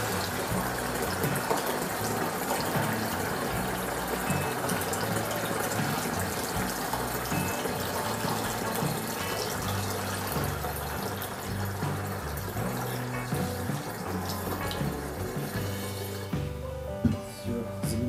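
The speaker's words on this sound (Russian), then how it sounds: "Так, заливаем столько же еще воды." Water is poured into a container holding mandarin peel, a steady broadband gush of filling liquid running for most of the stretch, fairly close and continuous, then easing off near the end.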